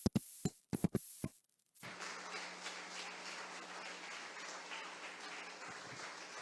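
A church congregation at a Friday worship service breaks into applause: a few sharp, separate claps or knocks first, then a steady, fairly soft patter of many hands clapping together.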